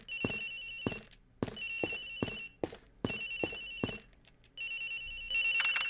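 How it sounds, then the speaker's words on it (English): A telephone rings in the flight attendant's room aboard a flight in Ace Attorney Investigations, repeating electronic trills in regular bursts with short gaps, with no one talking. "It sounds like the phone is up in the flight attendant's room."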